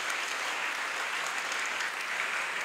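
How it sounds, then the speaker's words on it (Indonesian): Crowd applause at a school ceremony for Indonesian Independence Day fills the air as a steady, dense wash of many hands clapping together, constant in loudness with no speech over it. "Kita beri tepuk tangan untuk semua, untuk kita."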